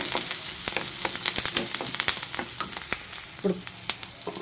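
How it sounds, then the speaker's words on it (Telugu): Curry leaves frying in oil with amaranth and fenugreek greens, a steady bright sizzle with scattered pops and crackles as the pan is stirred, close and continuous with no talk. "కాస్త కరివేపాకు వేస్తున్నాను. ఇది కూడా కలిసేలాగా అటు ఇటు తిప్పుకుంటూ చక్కగా ఫ్రై చేసుకోవాలి."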